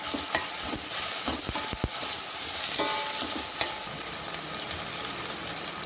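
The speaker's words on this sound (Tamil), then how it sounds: "பேஸ்ட் போட்டு அதையும் நல்லா வதக்கிக்கணும்." Onion with ginger garlic paste sautés in a pan for a chicken fry, a steady close sizzle broken by repeated scraping and stirring clicks of a spoon against the pan.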